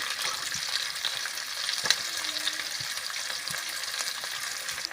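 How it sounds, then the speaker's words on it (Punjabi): Chopped onions fry in a pan with garlic, ginger and asafoetida for a spinach dish, giving a steady close sizzle with occasional light stirring scrapes and no voices. "ਆਪਾਂ ਇਹਦੇ ਵਿੱਚ ਕੱਟੇ ਹੋਏ ਪਿਆਜ਼ ਪਾ ਦਾਂਗੇ"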